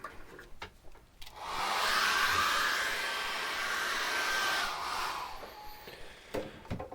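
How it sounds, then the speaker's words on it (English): A hairdryer blowing on acrylic paint for a seascape, a steady breathy whoosh switching on after a few light taps, running loud for several seconds, then cutting off into handling knocks. "I'm going to dry that off with a hairdryer."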